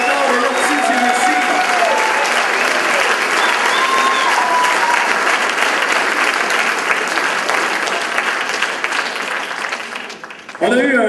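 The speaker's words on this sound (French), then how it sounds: "Je veux qu'on lui donne une bonne main d'applaudissement." A stage-show audience applauds loudly and continuously, thick sustained clapping with cheering voices over it, fading slightly before stopping near the end.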